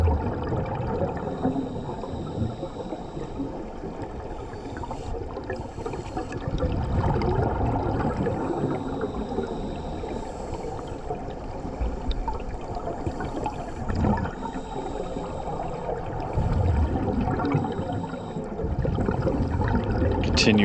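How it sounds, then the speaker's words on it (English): A scuba diver's regulator releases a continuous stream of bubbles underwater, heard as a steady, close, gurgling rush that swells and dips for about twenty seconds without pause. "Continuous stream of bubbles while that regulator in his mouth"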